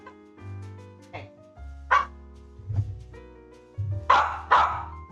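A dog barks several times in short, sharp bursts spaced a second or so apart, fairly close, over a steady low background tone.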